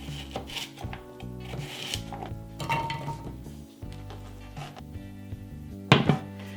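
A knife slices a large carrot into rounds on a cutting board, a run of crisp, irregular chops and clicks, ending with a louder clatter, over faint steady background tones.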